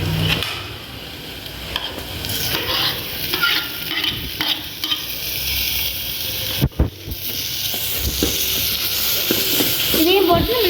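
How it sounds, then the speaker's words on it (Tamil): Onions and tomatoes sizzle and fry in hot oil in a home kitchen, a steady close hiss broken by scraping stirs and a few sharp clanks near the end. "கொஞ்சம் எண்ணெயை போட்டு வந்து பார்த்திங்கன்னா கொஞ்சம் வெங்காயம் போட்டு நம்ம நல்லா இப்போ வந்து வறுத்துட்ருக்கோம்"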